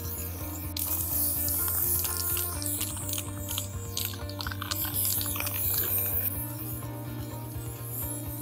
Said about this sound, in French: je vais utiliser de la bombe de peinture spéciale pour ameublement d'extérieur